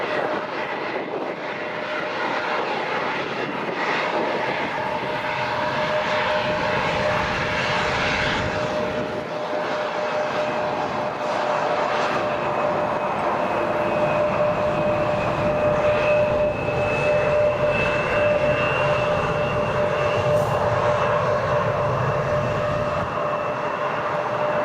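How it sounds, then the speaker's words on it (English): At Newcastle International Airport, an airliner runs its engines up on the runway before takeoff: a loud, steady jet roar with a sustained high whine, continuous and close, with no voices. "Needs 10 seconds just to run the engines up first on the runway."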